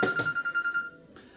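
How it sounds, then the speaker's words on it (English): A mobile phone rings in a kitchen while fruit pies are being made, with a steady electronic tone pulsing in quick repeated beats for about a second before cutting off. "Sorry, that's my phone."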